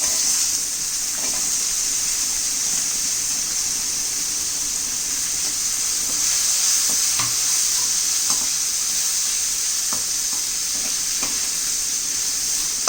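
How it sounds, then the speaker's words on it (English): Capsicum sautéing in a pan for tomato rice: a steady, bright sizzle and hiss of frying runs throughout, with a few soft stirring clinks, close and alone. "Saute the capsicum for 2 minutes."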